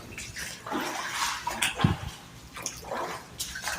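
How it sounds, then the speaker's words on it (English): Water trickles and drips inside a drainage tunnel, irregular wet splashes and drops echoing softly at a low, steady level, with no one speaking. "I just had water drip on me."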